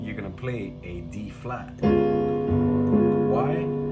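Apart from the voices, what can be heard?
No everyday noise stands out behind the speech.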